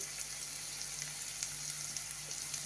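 Grated paneer sautés in butter with cooked vegetables, giving a soft, steady sizzle with faint stirring scrapes, close and fairly quiet, no talking.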